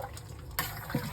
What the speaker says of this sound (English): Let's give it a bit more of a stir, and that normally brings it down.